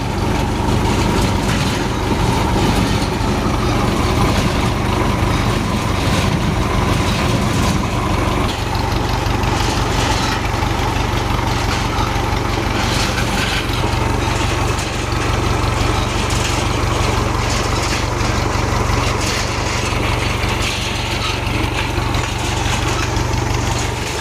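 A large tractor working over hard rock, its heavy engine droning steadily and loudly throughout with a low, continuous rumble and rough mechanical clatter, no voices.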